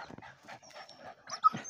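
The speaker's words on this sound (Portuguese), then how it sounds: "Os cachorros já viu o bicho aí e já ficou doido." Hunting dogs in the woods, worked up after sighting a tegu lizard, whine, whimper and pant close by, with a sharper yip near the end, in short excited bursts between quiet gaps.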